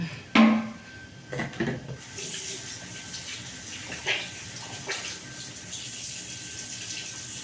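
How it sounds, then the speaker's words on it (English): Hands being washed under a running sink tap, with a sharp knock at the start, a few brief louder splashes and rubs, then a steady stream of water continuing in the background. "I'm wash my hands."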